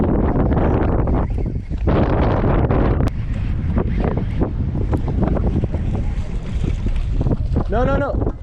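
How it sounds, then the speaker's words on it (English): Strong wind buffeting a fishing boat on Lake Whitney, a loud continuous roar and rattle against the microphone, with water slapping the hull and a few brief bursts of people talking. "The wind's pushing us forward."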